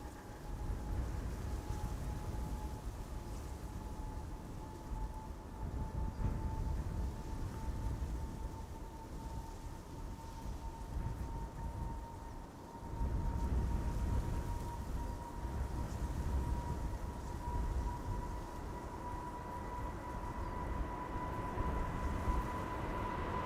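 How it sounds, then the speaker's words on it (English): KLM Boeing 777-200, 21 years old, taking off from Amsterdam Schiphol's Polderbaan runway in rain showers, a steady distant jet roar with a rising whine that swells partway through. "Second attempt at departing to Las Vegas, KLM flight 635, 777-200"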